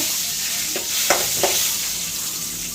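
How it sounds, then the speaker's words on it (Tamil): A little garlic sautéing in oil in a pan for Kumbakonam tomato kadaiyal, a close, steady sizzle broken by a few scraping stirs of a spoon, with no speech. "கொஞ்சோண்டு பூண்டு மட்டும் தாளிச்சுக்கிறேன். நல்லா சாட்டே பண்ணிக்கோங்க."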